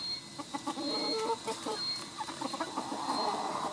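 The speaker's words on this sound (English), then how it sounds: "That's actually a very nice rooster." A rooster clucks repeatedly in short, choppy bursts, fairly close, over a steady background hum.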